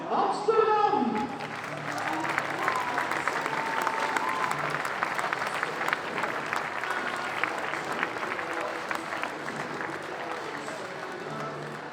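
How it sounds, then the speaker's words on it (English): Spectators at a women's club field hockey tournament in 's-Hertogenbosch applaud the Amsterdam team during a medal ceremony, steady crowd clapping and cheering that follows a brief announcer's voice and gradually fades. "Your applause for the team from Amsterdam!"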